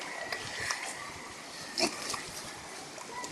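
Short, snuffling grunts from a ten-month-old pig come in brief bursts over a noisy background, with one louder grunt near the middle, in Betwagan, Sadanga.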